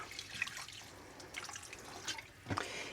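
Water trickling and dripping into a LifeStraw filter pitcher, faint close splashes and drips in irregular bursts with a quiet background.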